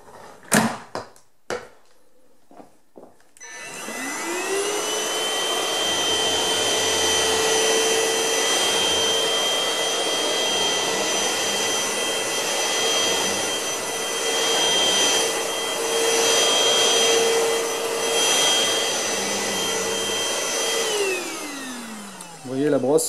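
An iLife Easine H55 robot vacuum cleaner spins up after a few clicks and runs with a steady, loud whining hum and rushing airflow for about twenty seconds before winding down.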